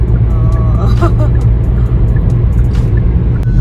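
Steady low road rumble and engine drone from a car cruising an expressway at night in thick fog between Delhi and Lucknow, heard continuously from inside the cabin beneath people chatting.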